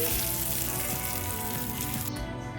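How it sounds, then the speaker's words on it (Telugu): Spices crackle in hot oil as a tempering for chutney, a loud, steady, close-up sizzle that cuts off near the end. "ఇప్పుడు చట్నీకి పోపు పెట్టేసుకుందామండి"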